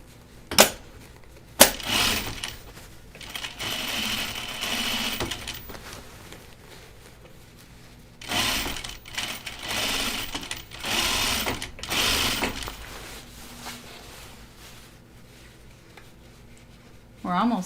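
A sewing machine stitches through fabric and a thick stiffener for a laundry basket, buzzing in several bursts of a few seconds each with pauses and handling noises, close up, while someone talks at times.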